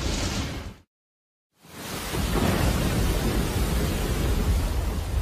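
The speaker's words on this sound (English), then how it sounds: "The Atlanta is weathering the storm, which is losing intensity." Heavy rain and thunder of a storm at sea around the sailing vessel Atlanta roar as dense, loud noise, cutting out briefly and then surging back as a steady, rumbling downpour.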